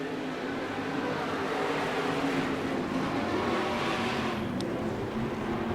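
Race cars circle the track on a short oval, a steady, loud blend of engine roar and crowd noise with no clear single pass-by, the pack's drone sustained throughout.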